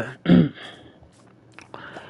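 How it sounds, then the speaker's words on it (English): A person clears their throat with one short, harsh rasp close to the microphone, followed by a couple of fainter breathy throat noises. "I'm trying to clear my throat"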